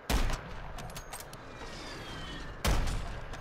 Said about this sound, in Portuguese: Está um tiro.